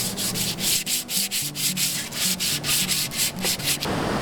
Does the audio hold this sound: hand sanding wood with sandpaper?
yes